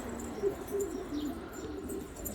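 Yellow abraj pigeons coo softly in a low, repeated murmur, with faint chirps and a steady outdoor background.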